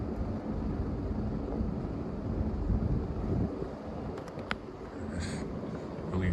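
An older Casablanca Lady Delta ceiling fan with a schoolhouse light kit spins fast and wobbles, giving a steady close whooshing rush of moving air with a few faint ticks near the end.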